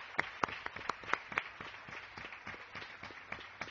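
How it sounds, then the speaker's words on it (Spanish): Scattered claps from a small remote panel audience after a Buenos Aires–Madrid link, irregular and thin rather than full applause, fairly faint with a few sharper hand claps standing out. "Acá un aplauso para ti."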